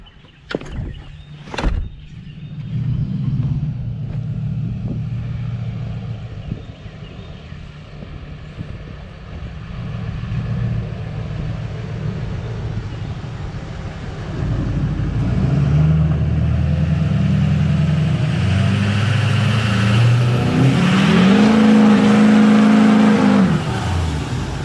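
A Duramax diesel truck does a burnout in a residential driveway, its engine revving and roaring steadily and building louder toward the end, with tyre squeal and rising pitch as it bogs and climbs.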